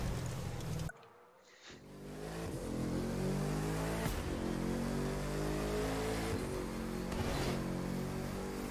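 A classic red Ferrari's engine revs and accelerates in the racing video game The Crew 2, a loud continuous roar with rising pitch sweeps, briefly dropping out near the start before surging back and holding strong.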